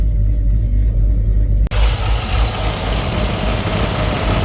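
A heavy Chevy square body wrecker truck engine runs steadily and loudly with the PTO engaged, a constant mechanical rumble with one brief dropout partway through.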